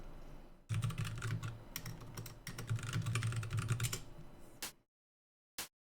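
Rapid clattering keystrokes on a computer keyboard, close and steady for several seconds, then stopping abruptly with one last isolated tap after a short silence.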